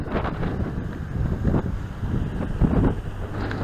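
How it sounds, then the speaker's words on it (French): Strong wind on Porto Santo island buffets the microphone in continuous rumbling gusts, with a faint watery wash underneath and no voices. "Il y a toujours autant de vent."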